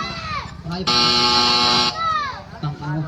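A loud, sustained electronic buzzer blares for about a second at a ball game, with people talking before and after it.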